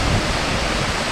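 The Potomac River rushing through Mather Gorge below Great Falls gives a dense, steady broadband roar of moving water, heard from an overlook about 50 to 60 feet above, with no voices.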